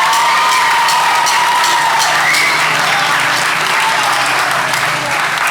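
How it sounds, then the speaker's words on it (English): Audience at a school spring concert applauds and cheers for the sixth-grade graduating band members, with steady loud clapping plus scattered whoops and shouts throughout. "Just give them one big round of applause for me."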